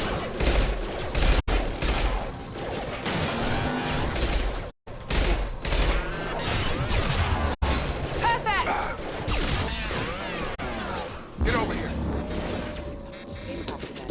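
Heavy sustained gunfire from a Mass Effect 2 firefight against hostile mechs, dense bursts and blasts running almost continuously with brief gaps, loud and close, with voices talking over the shooting.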